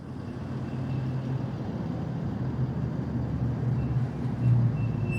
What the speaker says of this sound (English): This truck riding on the rail right there.